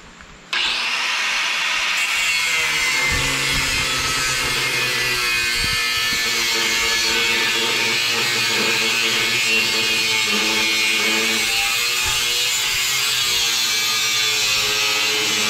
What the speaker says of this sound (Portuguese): Vou cortar aqui agora.